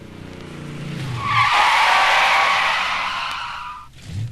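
A 1965 Pontiac GTO brakes hard from 100 on a proving-ground track, its tires letting out a loud, sustained skidding squeal that swells and then fades as the car stops.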